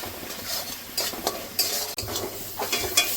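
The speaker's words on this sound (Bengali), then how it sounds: "মশলার সঙ্গে সুন্দর করে গুঁড়ো মশলার সঙ্গে কষিয়ে নেব। আবার কিছুক্ষণ ভেজে নেব।" Whole and ground spices are stirred and fried in a pan for a chicken and raw papaya curry, with scraping spoon strokes and clinks over a soft, steady sizzle, close and without talk.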